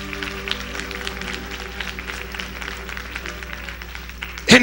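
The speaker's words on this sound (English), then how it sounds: "Clap your hands." A church congregation claps their hands at a Sunday evening service, with scattered rhythmic claps over a steady hum and murmuring crowd, ending in a sudden louder burst.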